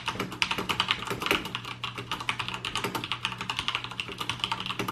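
Fast, steady typing on a mechanical keyboard with Cherry MX Red linear switches, a dense run of crisp clacks close up with no voices.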